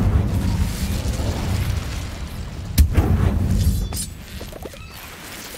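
A fire spell cast in the Hogwarts Legacy video game, heard as one sharp burst near the midpoint over a steady rumbling game soundscape, with a few softer pops after it.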